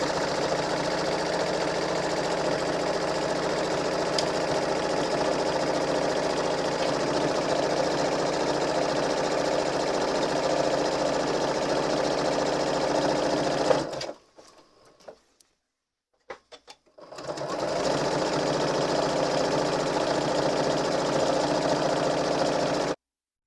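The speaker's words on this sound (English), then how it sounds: "as we run it through, it's going to curl over to the side" A sewing machine runs steadily, gathering silky satin into ruffles, with a continuous close mechanical whir that cuts out briefly near the end before resuming.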